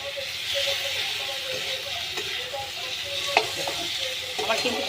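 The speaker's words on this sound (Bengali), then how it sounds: "আদা রসুন কিন্তু বেশি ভাজা যাবে না।" Ginger and garlic fry in hot oil, sizzling steadily while a utensil stirs them with scattered scraping clinks, close and moderately loud.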